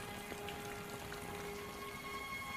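Steady rainfall in a film, with soft pattering drops, a continuous quiet hiss with no voices.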